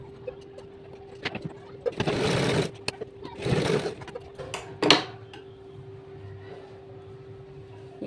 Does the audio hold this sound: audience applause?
no